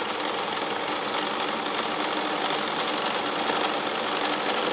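A sewing machine runs steadily while stitching a seam, a dense continuous mechanical whir with no pauses, close and fairly loud, with no talking.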